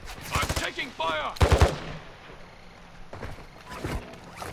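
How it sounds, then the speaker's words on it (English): Gunfire in Call of Duty cracks out in short bursts of sharp shots, a loud cluster early followed by fainter scattered shots later, mixed with brief in-game voice. "Enemy sniper here! I'm taking fire!"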